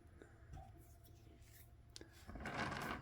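Pruning shears snipping a branch on a zelkova bonsai, giving a few quiet close clicks and rubbing sounds, with a brief rustle of leaves toward the end.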